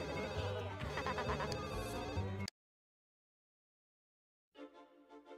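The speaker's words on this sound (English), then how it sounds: "Who can answer the phone?" A telephone rings in The Sims 1, a loud electronic ringtone with a repeating pattern that cuts off abruptly, followed by silence and then a fainter burst of game sounds.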